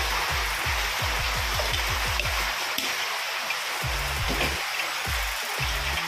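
Steady rain falls outdoors onto a tiled roof, a dense even hiss with scattered drip ticks, while a person talks over it.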